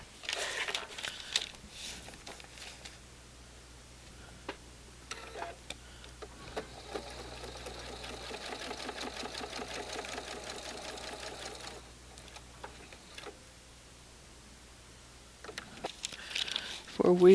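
A sewing machine runs in a steady, rapid stitching chatter while a quilt block seam is sewn. It starts after some soft handling noises, continues for several seconds, then stops, with talk around it.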